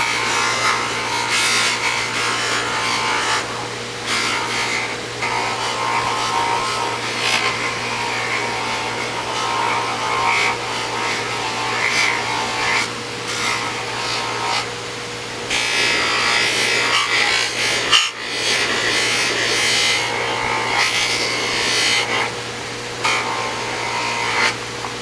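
A motorized buffing wheel polishes a Kydex holster, giving a continuous loud rubbing hiss over a steady motor hum, with brief shifts in pressure and no voices.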